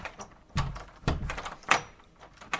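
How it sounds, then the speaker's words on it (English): A door rattles and thunks in a few loud, separate knocks, close by, with quiet gaps between them. "heard a door rattling to her brother Byron's room"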